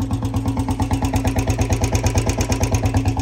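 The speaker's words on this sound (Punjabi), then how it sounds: "ਕਿੰਨੀ ਆਵਾਜ਼ ਕਰਦਾ ਇੰਜਣ ਦੀ" BS6 Royal Enfield Bullet motorcycle engine running steadily close up, a loud, even thump-thump firing rhythm repeating rapidly throughout with no voices.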